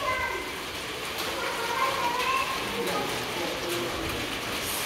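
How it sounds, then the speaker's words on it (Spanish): Rain pouring steadily at a home, a dense even hiss close around the listener with scattered drops and faint bird or child sounds in the background. "Se vino la lluvia."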